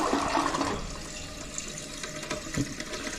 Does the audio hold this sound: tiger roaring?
no